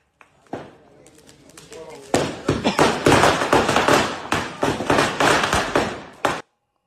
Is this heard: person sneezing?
no